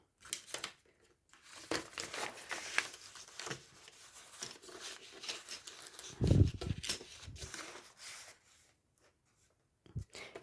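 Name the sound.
cutting out pieces of jelly plate print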